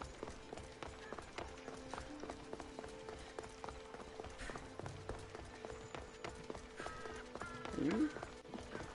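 Horse hooves running in Assassin's Creed Odyssey, a steady clip-clop gallop rhythm at moderate level, mixed with game ambience and some talk.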